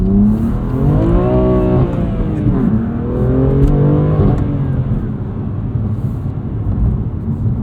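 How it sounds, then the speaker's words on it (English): A 2021 BMW M2 Competition with a six-speed manual revs high and loud from inside the cabin, the engine note climbing and falling in sweeping pitch as it pulls toward redline and beyond. "I'm surprised at how high it revs"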